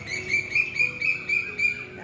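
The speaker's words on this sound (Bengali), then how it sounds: "দেখো কোকিলের ডাক" A cuckoo calls in the morning air with a steady series of bright, repeated notes, each rising call evenly spaced and clear, fairly close, with faint background hum.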